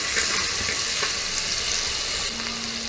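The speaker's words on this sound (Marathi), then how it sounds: "एक चमचा आलं लसूणची पेस्ट तेलावर थोडी परतवून घ्यायची" Ginger-garlic paste sizzles in hot oil in a pan with a dense, steady hiss and crackle, preparing a Khandeshi mutton curry. The frying is close and continuous, with no speech.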